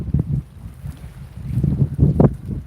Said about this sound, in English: a lot of wind right now, and if you guys could hear the wind